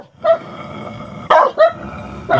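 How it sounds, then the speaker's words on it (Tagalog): Dog in a creepy aswang horror game, tied up, giving several sharp, loud barks, one early, then a quick pair and another at the end, close by with quiet gaps between. "May tinali silang aso mga idol, kabata na to."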